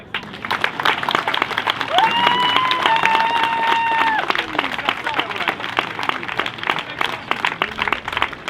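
Marchers at a climate march in Lyon burst into sustained applause, a thick wash of clapping with whistles and cheers rising through the middle, while a voice carries over the crowd noise.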